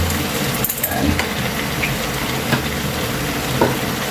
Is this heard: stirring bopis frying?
yes